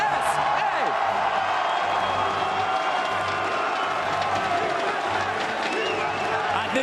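A large hometown crowd cheers and applauds at the Overwatch World Cup finals at BlizzCon, a dense, continuous roar of voices and clapping filling the arena throughout.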